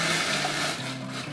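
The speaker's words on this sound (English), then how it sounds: "I'm gonna go ahead and empty that hot water into the canner" Hot water poured from a canning pot into a canner, a steady close-up splashing rush that softens slightly toward the end.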